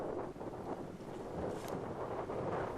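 Steady gusting wind buffets the microphone outdoors at a Wyoming sporting event, a continuous low rumble with soft swells and no voices.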